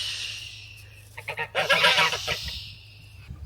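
A farm goose honks at a French château: a short cluster of loud, harsh calls rises midway at moderate distance, then fades back into steady outdoor background noise.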